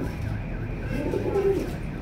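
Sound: pigeons cooing at a pigeon sale

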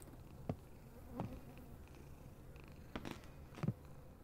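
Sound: cats purring

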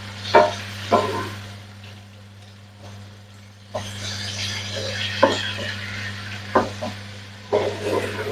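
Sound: stirring pineapple into prawn fried rice in a pan

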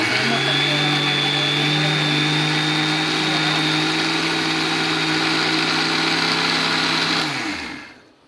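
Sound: mixer grinder running

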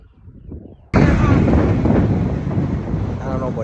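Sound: loud vehicle driving by, rough engine

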